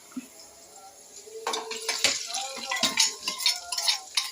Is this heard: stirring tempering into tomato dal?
yes